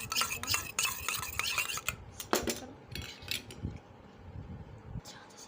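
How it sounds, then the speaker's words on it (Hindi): Spoon stirring ketchup mixed with iodine in a small container, a steady run of close scraping and clinking strokes with occasional sharper taps, fairly loud and alone. "अब आपने थोड़ी देर इसको ऐसे मिक्स करते रहना"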